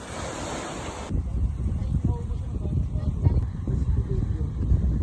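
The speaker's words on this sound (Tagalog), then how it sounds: "lakas ng hangin dito" Strong beach wind roars steadily against the microphone in heavy, fluttering gusts with a low rumble, and faint background voices sit underneath.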